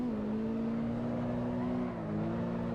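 Car engine in Assetto Corsa EVO holds a steady, droning rev during clutch-kick drifting, with a slight pitch dip and recovery near the end; loud and continuous with no speech.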